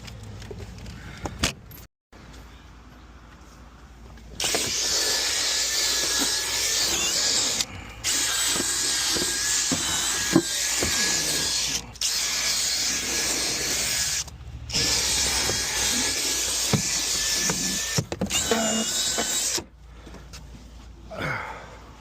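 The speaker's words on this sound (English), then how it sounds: "And now I'm gonna get the drill brush." A power drill whirs steadily in long bursts, pausing briefly between runs, with a brushy scrubbing hiss over the motor, close and loud.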